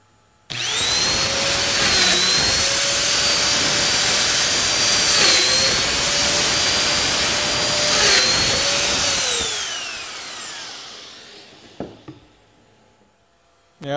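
A Triton or Mafell dual-dowel joiner bores holes into wood, set to a 16 mm depth. Its high-pitched motor whine rises and dips through a few plunges, then winds down, leaving a couple of faint clicks.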